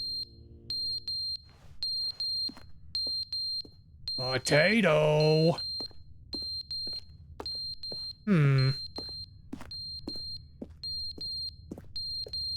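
Loud electronic beeping repeating in quick bursts of high, steady tones with short gaps, close and insistent, broken twice by a sharp sweeping electronic sound; a voice briefly speaks over it.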